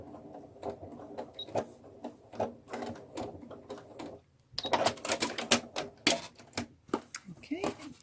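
A sewing machine backstitches a seam on a fabric bunny gift bag, with short bursts of rapid clicking and tapping broken by brief pauses and a louder busy stretch near the end.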